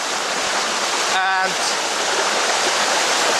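Water rushes steadily from a small dredge hose into a pot beside a river, a loud continuous gushing, with a brief spoken word partway through.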